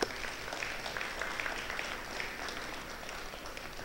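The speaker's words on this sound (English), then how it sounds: "let's give them a round of applause as well" A college audience applauding at the Union County College 2019 Black History Month Opening Celebration: steady, dense clapping from many hands, fairly distant and even throughout, with no voices over it.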